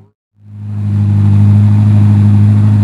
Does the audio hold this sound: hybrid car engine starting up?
yes